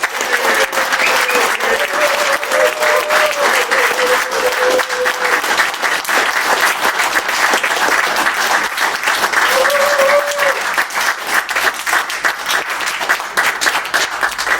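Conference audience giving a sustained round of applause, steady dense clapping from a crowd in a hall, loud throughout with a voice briefly audible over it.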